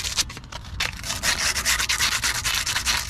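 A brake caliper on a 2019 Chrysler 300 is scraped close up with quick, repeated rough strokes. The gritty rasping is loud and continuous, with no voices.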